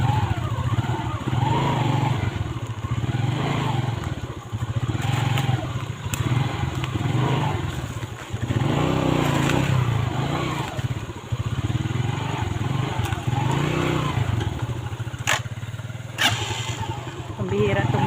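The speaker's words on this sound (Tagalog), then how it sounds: "Pambihira itong motor na to." Motorcycle ride on a rural road as rain threatens, with a steady engine drone running throughout and people talking over it.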